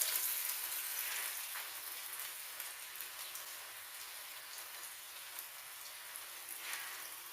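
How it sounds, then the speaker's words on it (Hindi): Chapli kebabs of medium size, Peshawari style, frying two at a time in hot oil, giving a steady, even hiss and crackle that holds at the same level throughout with no talking. "मैं 2-2 करके फ्राई करूँगा इसको"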